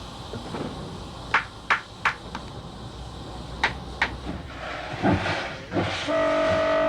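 A Chinese Liberation-class steam locomotive rumbles steadily with several sharp metallic clanks spaced irregularly, ending in a sustained tonal whistle-like hum.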